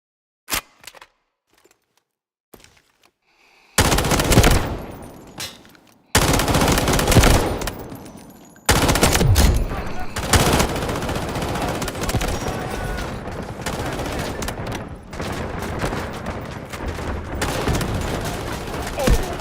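SG552 assault rifle from Delta Force on a firing range, loud sustained automatic bursts after a few isolated shots, fire rattling almost continuously with short breaks.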